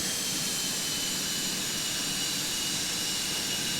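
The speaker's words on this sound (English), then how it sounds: "This is a McDonnell Douglas MD-88" McDonnell Douglas MD-88 jet engines in a flight simulator game give a steady, even roar with broad hiss, holding constant throughout without any talk.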